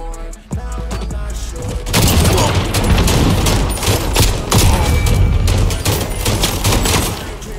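Rapid bursts of gunfire from a shooter video game against bots, loud and dense, with a quieter stretch at the start giving way to sustained volleys and sharp single shots.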